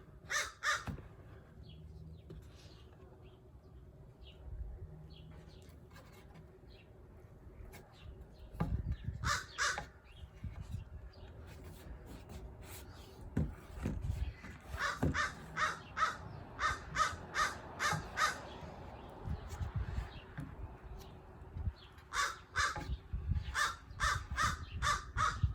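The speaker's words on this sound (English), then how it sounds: "Sounds like to me all you're going to hear is crow." A crow caws repeatedly outdoors in bursts of several harsh calls, loud and fairly close, with pauses between volleys and rustling and bumping noises in the background.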